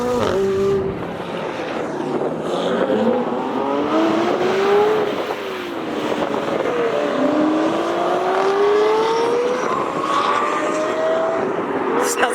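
A McLaren 720S exhaust roars as it accelerates, its pitch sweeping upward through several rising pulls at close, steady loudness.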